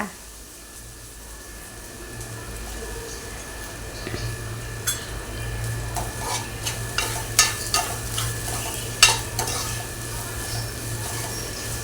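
Masala being stirred in a pan for mutton keema, with a steady low sizzle of frying under scattered scraping clicks of a spoon against the pan, growing busier toward the end.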